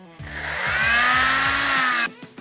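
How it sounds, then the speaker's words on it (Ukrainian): An oscillating renovator saw used to cut off a Scotchcast polymer cast in an orthopedic setting whines steadily and loudly for about two seconds, starting and stopping abruptly, with a low voice murmuring beneath it. "а це пилка для його зняття або правильно реноватор"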